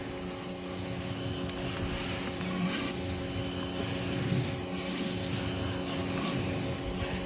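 A Westinghouse 12-inch pressure washer surface cleaner runs continuously, a dense, steady roaring hiss of spraying water and motor drone at an even, moderately loud level with a high whine on top.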